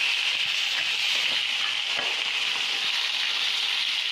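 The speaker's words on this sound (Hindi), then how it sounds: "मीडियम फ्लेम पे रख के अदरक डाल देंगे" Ginger frying in a pan over a medium flame with garlic, a steady, continuous sizzle and hiss, close and fairly loud without pause.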